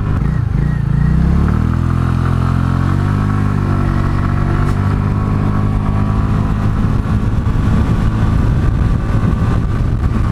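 A Honda Elite 125 scooter accelerates on a test ride, its engine tone climbing steadily and droning loud and close for the whole stretch, with no talking.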